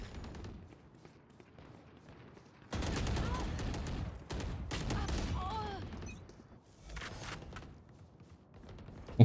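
Bursts of rapid automatic gunfire fill a match of the Apex Legends video game, dense volleys that come in waves with brief pauses between them. A voice talks over the shooting at times.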